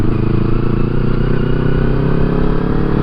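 Motorcycle riding over loose stones on a rough, boggy camping-trip track, with a steady loud engine drone and constant gritty clatter and scraping from the tyres throughout.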